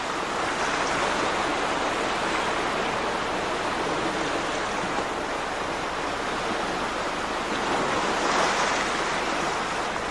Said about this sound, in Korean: 열정을 갖고 담아낸 파도 소리를 한번 들어볼까?